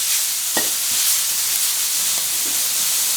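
Steady hot-oil sizzling with a few scraping clicks of a utensil against an iron wok while stir-frying pad kee mao, close and continuous.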